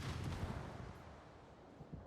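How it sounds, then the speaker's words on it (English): Warship naval guns fire in the World of Warships video game, a heavy booming salvo at the start that rumbles and fades, with a couple of softer thuds near the end; no talk. "Here come the shots."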